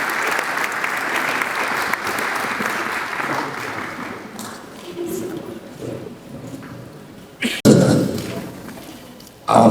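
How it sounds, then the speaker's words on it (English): A conference audience at a Lagos business conference and expo breaks into loud applause. The clapping runs strongly for about four seconds, then thins and fades, and a couple of sharp thuds follow near the end. "Please a round of applause once again."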